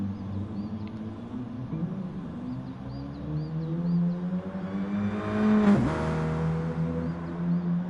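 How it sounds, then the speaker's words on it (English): A hot hatch car in the racing video game Gran Turismo Sport at the Nürburgring GP circuit revs its engine for burnouts, a droning tone climbing steadily and peaking in a sharp loud rev near the end. "gonna do some burnouts for us"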